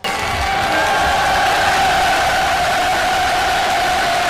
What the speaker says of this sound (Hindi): तुर्की के लिए भाई जोरदार तालियां।